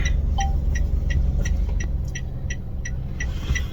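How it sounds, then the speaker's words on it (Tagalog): Road traffic with a car driving along, a steady low engine and road rumble running throughout, with faint repeated beeps or clicks above it. "Traffic."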